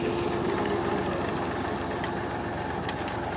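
A 4x4 tractor 244 runs in a potato field, its engine giving a steady, unbroken drone with a broad rushing noise, loud and even throughout with no voices.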